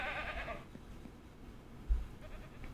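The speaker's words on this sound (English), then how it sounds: "Hello, little baby goat. You're so sweet." Baby goat on a farm in the video game Ranch Simulator, giving a short bleat near the start, followed by quiet background with a soft thump, faint and alone.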